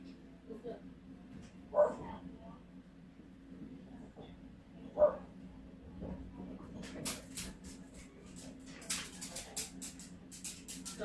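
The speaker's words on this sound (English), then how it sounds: "Start barking at a random cat out here." Outdoors, a dog barks at a cat, giving two sharp barks a few seconds apart among quieter scuffling and faint background noise.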